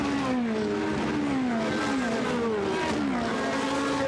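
Ferrari 458 and 488 GT race cars in a Blancpain GT Series qualifying race on track give repeated engine notes that rise and fall as the cars pass, over steady broadband track noise.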